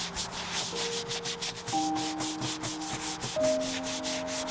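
Scraping stripped paint from an old 1920s wooden door, a steady rough rasping rub repeating in quick strokes, loud and close, with no talk over it.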